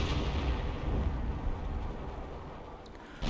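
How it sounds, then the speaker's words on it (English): Artillery fire in the Company of Heroes video game: a continuous deep rumble of shelling and explosions rolls steadily for several seconds, dense and loud, with a sharp burst near the end. "More artillery"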